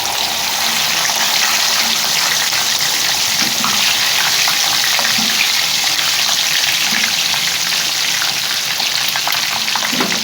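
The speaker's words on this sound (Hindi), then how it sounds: "अब इसको फ्राई कर लेते हैं।" Chicken chargha fries in hot oil with a loud, constant bubbling sizzle that stays steady and close all the way through, with no talk.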